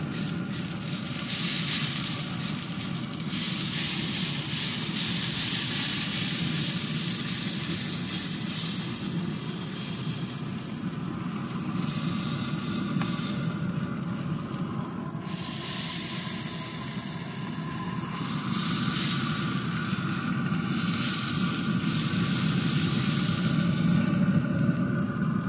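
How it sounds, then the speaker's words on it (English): Smoked pork butts sizzle and hiss on a pellet grill while being spritzed, a constant dense sizzling with bursts of spray hiss coming and going over about twenty-five seconds. "We're on hour number two. Let's see what they're looking like. There ain't much change in it, but we're going to spritz them again."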